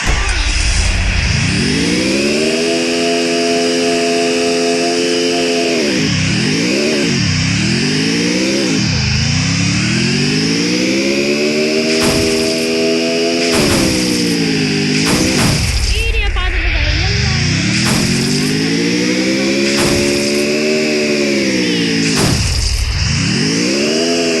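Video game car engine revving repeatedly, loud rising and falling pitch sweeps as it accelerates, drops and climbs again, with chaotic game effects layered on top.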